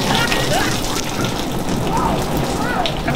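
Steady rain falls throughout in a dense, continuous patter during a thunderstorm, loud and close, with children's voices faintly audible over it.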